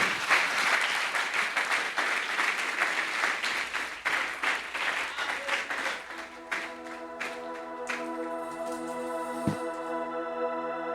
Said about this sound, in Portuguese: Vamos aplaudir o Senhor nessa noite?